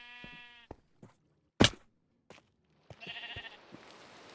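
Minecraft sheep give a few short, scattered bleats from the game, separated by clicks and a sharp thud, with a rougher bleat near the end.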